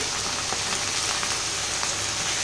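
Washed fenugreek greens hit a hot pan and sizzle loudly, a dense steady hiss of frying with faint crackles running throughout and no talking.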